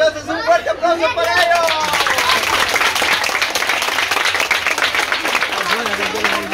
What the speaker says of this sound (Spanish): Entonces un fuerte aplauso para